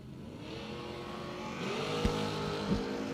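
Drag racing car launching off the start line in a quarterfinal round, a loud sustained engine roar building and rising in pitch, with two sharp bangs near the end over the steady din.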